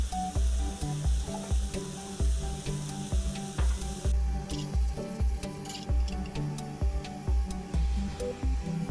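Continuous sizzling of chopped onions frying in olive oil, with regular tapping and ticking sounds pulsing over it and no talking.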